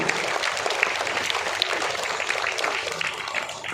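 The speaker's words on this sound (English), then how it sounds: "a very big applause to grade A, second A students for enacting this simple skit" Audience applause at a school special assembly for grade-two students who acted out a skit, steady dense clapping filling the room without a break.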